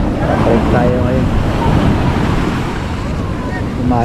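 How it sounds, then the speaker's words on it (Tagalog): High ocean waves break at the seaside on a rainy, rough-sea day, a continuous wash of surf mixed with gusty wind noise and faint voices nearby. "Ang taas talaga ng alon doon."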